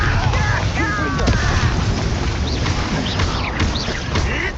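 Spell blasts from Bombarda and Confringo in Hogwarts Legacy give a dense, loud rumble of booming explosions layered with crackling debris and whooshing effects, continuous throughout.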